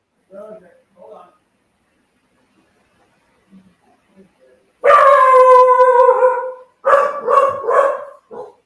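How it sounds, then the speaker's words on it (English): A dog barks and howls loudly close to the microphone in a few drawn-out bursts during a casual football talk recording, with people's voices heard faintly before and around it. "being mauled by a dog"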